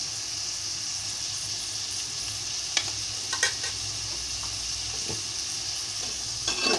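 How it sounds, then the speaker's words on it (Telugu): Prawn curry, salted to taste, is stirred in a pan, with a steady sizzle throughout and occasional sharp spoon scrapes against the metal, louder near the end. "బాగా కలియ తిప్పుతున్నాను."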